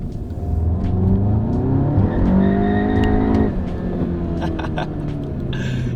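A tuned VW GTI with a Stage 1 ECU and TCU tune revs hard from inside the cabin, rising in pitch, then shifts and pulls again at a lower pitch, loud and close with a whirring drone.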